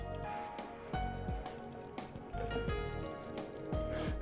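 Starchy rinse water being drained off rice in a bowl, with close wet splashing and dribbling pours that come in several short bursts over a few seconds.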